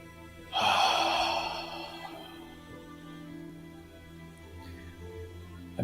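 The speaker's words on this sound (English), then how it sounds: "So take a deep breath." A single deep breath during a meditation practice, a long, audible inhale rising sharply then fading slowly into a quiet room.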